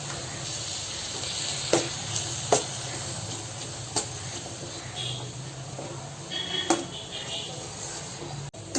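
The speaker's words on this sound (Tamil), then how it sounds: "கொஞ்ச நேரம் ஒரு 5 நிமிஷம் இப்படியே வதங்கட்டும்." Vegetables and meat sauté in a pan with cumin, fennel, chilli powder and ginger-garlic paste, a soft continuous sizzle and hiss broken by a few sharp clicks and scrapes of the spoon, heard alone.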